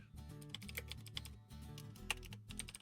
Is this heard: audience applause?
no